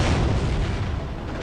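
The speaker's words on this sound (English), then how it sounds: "Rear armor hit by the Panzer Shreks." A heavy, roaring explosion from a Panzerschreck round striking tank armor in a Company of Heroes mobile strategy game, loud and dense throughout with a rumbling low end.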